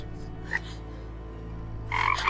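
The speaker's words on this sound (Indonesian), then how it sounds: "Mas, ada kodok." A frog gives a faint brief croak early, then a louder raspy croaking burst closes the moment, near and without any voices.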